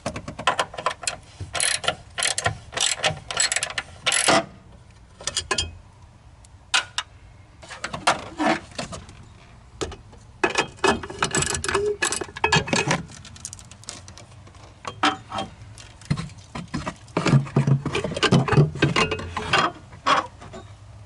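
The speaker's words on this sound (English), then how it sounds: "First thing we're going to do is remove this bracket." A hand ratchet works loose the 10mm bracket bolts on a 2013 Toyota Prius 12V battery, with repeated bursts of close, crisp clicking between pauses and occasional metallic clunks.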